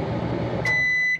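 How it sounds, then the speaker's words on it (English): A microwave oven powered by a Maxoak EB240 portable lithium power station hums steadily and then gives a single sharp beep as it finishes, quiet and close. "It definitely can run the microwave."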